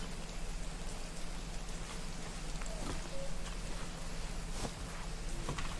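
Steady rain falls in a video game, a dense continuous patter that stays even and fairly close, with a few faint clicks over it and no talking.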